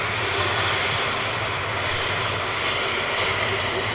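Ilyushin jet airliner engines roaring in reverse thrust after landing at Manchester Airport, heard from the runway viewing park as a steady, loud, unbroken rumble and hiss with no talking.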